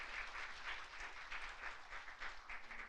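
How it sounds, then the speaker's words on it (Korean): Soft, distant applause from an audience at a traditional medicine conference session thanking the speakers, a steady low patter of clapping heard faintly under a hall's background rumble. "오늘 발표해 주신 연사님들께 여러분 다시 한번 큰 박수 부탁드립니다."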